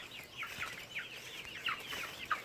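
Month-old heritage chickens, Shamo and Barred Plymouth Rock, cluck softly in a coop, their short calls repeating at close range with no voices.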